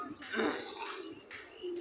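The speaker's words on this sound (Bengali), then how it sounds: "এই হাটে দেশি বিদেশি কবুতর ও পাখি পাওয়া যায়" Pigeons at a weekly market selling local and foreign pigeons and birds produce soft cooing mixed with chirpy calls, fairly faint amid a busy, continuous market hubbub.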